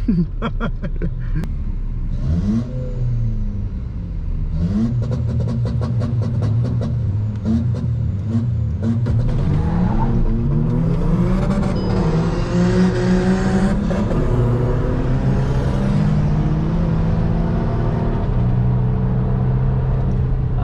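A car engine revs and accelerates through several gears, its pitch climbing and dropping repeatedly, loud and close from inside the vehicle.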